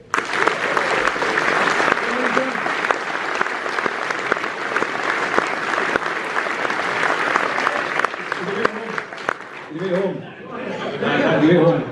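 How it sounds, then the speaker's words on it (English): An audience at a theatre Q&A in Dundee claps in sustained, dense applause, with voices rising over it as the clapping fades near the end. "So give a big hand."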